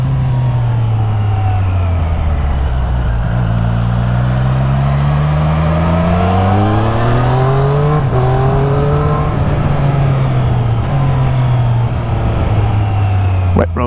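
Triumph Street Triple 765 RS motorcycle engine downshifting with the quickshifter on wet roads, its revs rising and falling in steady steps as engine braking takes hold, loud and close throughout.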